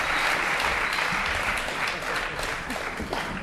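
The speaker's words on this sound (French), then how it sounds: "Mesdames, messieurs, Bernard Bilis, sur vos applaudissements" A French television studio audience applauds as a comedian takes his seat, a steady wash of many hands clapping at moderate volume that holds evenly and fades slightly at the end.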